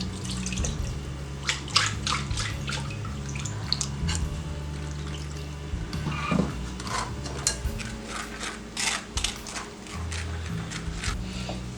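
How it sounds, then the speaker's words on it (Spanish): Water poured into a blender jar to rinse it while chile-based sauce for beef stew is strained, giving a steady splashing and trickling wash with intermittent drips and clinks throughout, with no talk. "Agregamos un poquito de agua solamente como para enjuagar nuestro vaso de licuadora."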